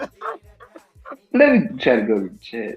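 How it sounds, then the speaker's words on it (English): Harmonic yelps and whining barks from a dog, close and loud, mixed with someone talking over it. "That's my dog."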